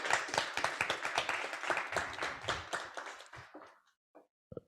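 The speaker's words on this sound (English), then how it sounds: "Applaudissez les candidats." Applause for the candidates from a small audience, clapping close and rhythmic at first, then thinning to a few scattered claps before falling quiet.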